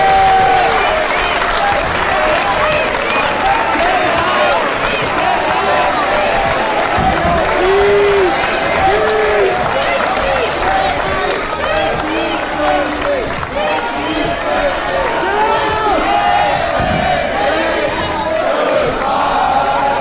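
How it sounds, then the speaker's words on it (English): A large audience at a talk chants in unison at departing protesters, a loud, rhythmic mass of voices mixed with clapping and cheering that continues throughout. "The people in the crowd started chanting goodbye at them."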